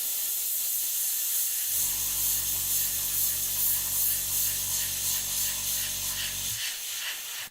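An airbrush spraying paint onto a painted miniature model, producing a steady close hiss of air that runs for several seconds, then cuts off abruptly.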